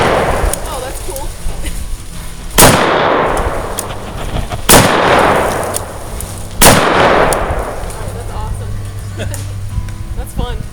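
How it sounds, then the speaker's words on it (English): Three loud, sharp shotgun blasts from an AK-style shotgun at an outdoor shooting range, each with a ringing decay, spaced about two seconds apart over steady background noise. "So it's an AK style, but a shotgun."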